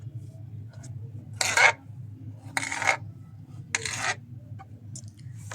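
A knife slices an aloe vera leaf into small pieces: three short, crisp cutting strokes about a second apart, close and fairly quiet over a steady low background hum.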